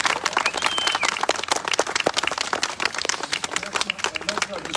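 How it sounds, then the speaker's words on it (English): An audience claps in dense, steady applause with sharp crowded hand claps throughout, loud and close, with some voices mixed in. "let's give them another round of applause"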